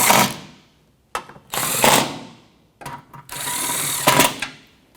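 A hand ratchet tightening front bolts on a 2007-2017 Jeep Patriot during a ball joint job, giving several bursts of rapid clicking separated by brief pauses, close and clear.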